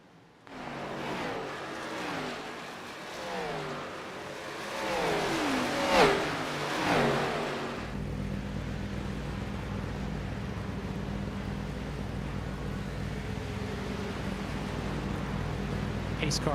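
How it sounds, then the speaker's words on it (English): A pace car engine at Homestead-Miami Speedway during an Xfinity Series race revs and roars, rising and falling in pitch several times, then settles into a loud, steady drone. "Pace car making a lot of noise."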